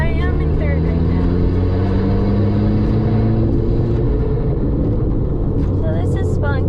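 A 350whp Volkswagen MK5 GTI cruises through a canyon in third gear, its engine a loud, steady low drone close by while someone talks over it.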